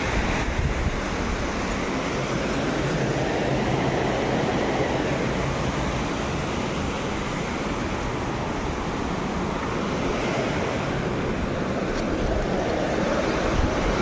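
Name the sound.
water flowing into a canal drain, Narmada canal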